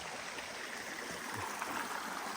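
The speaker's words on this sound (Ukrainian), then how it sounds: "Така легесенька гірська річка." Steady broadband rush of a small mountain stream in the Lviv region flowing, constant and fairly close, with no voices.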